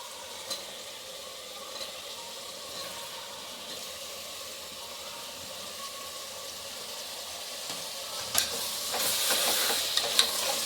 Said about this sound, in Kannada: ಟೊಮೆಟೊ ಹಾಕ್ಬಿಟ್ಟು ಚೆನ್ನಾಗಿ ಫ್ರೈ ಮಾಡ್ಕೊಳ್ಳಿ 1-10 ನಿಮಿಷ.